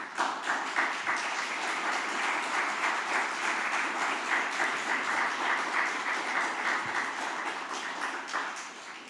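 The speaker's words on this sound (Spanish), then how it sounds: "Dale un aplauso al Señor" Applause from a church congregation during a service, a dense and steady roar of many hands clapping together, sustained at even loudness throughout with no voices over it.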